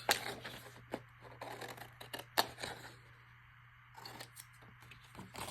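Scissors snip through a paper embellishment backed on black card for a Halloween page, giving a string of close, crisp irregular cuts over a faint steady hum, with no talking.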